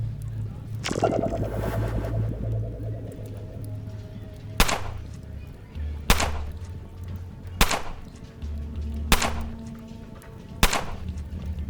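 Gunfire in the UnderRail video game: one loud burst near the start, then five sharp, evenly spaced shots roughly every one and a half seconds over a low steady hum.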